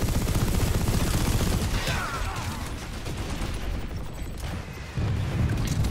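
A MAX unit's gunfire in PlanetSide 2 rattles as dense, rapid bursts, loud and continuous, easing slightly midway before the heavy firing resumes, with mechanical clatter in the mix.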